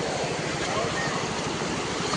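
Fast-flowing floodwater rushing over a flooded road in PCMC after heavy rain, a loud continuous roar of churning water with wind buffeting the microphone throughout.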